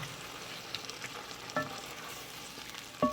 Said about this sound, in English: Nagua is just going to continue stirring for maybe a minute or 2 until everything simmers together